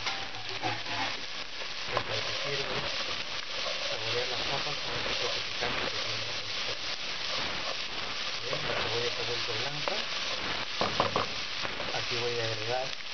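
Onion, garlic and spicy chorizo frying in a hot pot for spicy potatoes, giving a steady, dense sizzle throughout while a voice talks intermittently over it.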